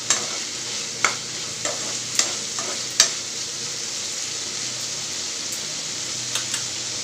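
Potato curry (aloo bhujia) with garam masala frying in a pan as a spoon stirs it, with a steady close sizzle and several sharp scrapes and knocks of the utensil against the pan.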